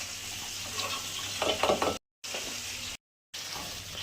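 Eggplant rubbed with salt and turmeric fries in a pan with a steady, close sizzle, broken by a short burst of stirring scrapes and two brief total dropouts.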